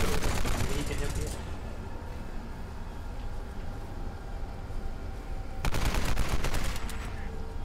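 Rapid gunfire in a Tomb Raider free-for-all multiplayer match: a dense, loud burst of automatic shots opens the clip, then after a lull a second heavy fusillade cracks out near the end.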